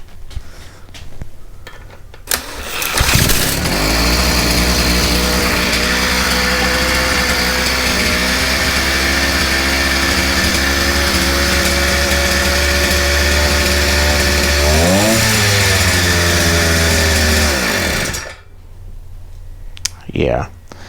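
A flooded 50cc bike engine fires up after a few pulls and runs as a loud, buzzing light engine close by, its pitch wavering and rising briefly in a rev before it shuts off, with talk around it.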